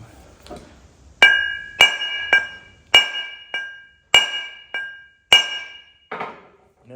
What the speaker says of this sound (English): I want to give this a good knock with my hammer.